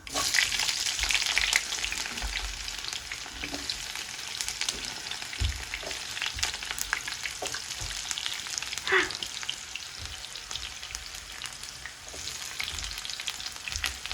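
Garlic sizzling in hot oil in a pan while cooking Sankera fish curry: a steady, close frying hiss with occasional stirring clicks, and no talking.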